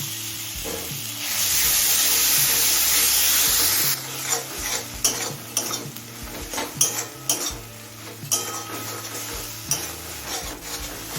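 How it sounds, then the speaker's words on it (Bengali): Tomato pieces, salt and chopped green chilies stirred in a hot frying pan, with steady sizzling and repeated scraping and clinks of a spoon against the pan, close and moderately loud, no talking. "সব কিছু ভালোভাবে মিশিয়ে নিয়েছি"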